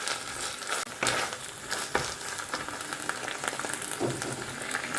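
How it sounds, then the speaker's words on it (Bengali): Food sautéing in a pan over a low gas flame, with minced meat going in among the spices: a steady soft sizzle and crackle, moderately close, with occasional louder stirring scrapes and no talking. "এটাকে একটু কষিয়ে নেব।"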